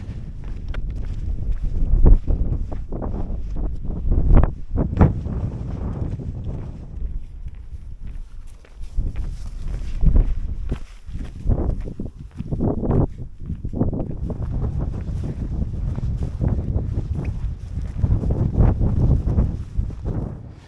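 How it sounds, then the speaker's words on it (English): Gusty wind at a wild camping spot near Cowburn Shaft tunnel in the Peak District, buffeting the microphone in low rumbling surges that rise and fall throughout, with occasional rustles and thumps. "Oh, it's gone quite windy."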